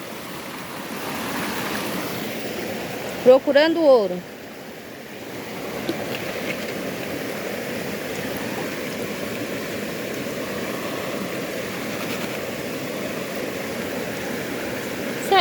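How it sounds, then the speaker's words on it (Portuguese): A waterfall in Brazil where gold is being panned, a steady rushing wash of falling water throughout, with someone speaking briefly early on. "Tô aqui na cachoeira"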